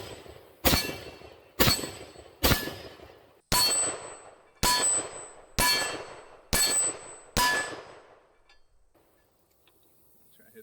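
Rifle bullets striking an AR500 steel hostage target, eight sharp metallic clangs at a steady pace, each ringing out briefly before the next, then silence.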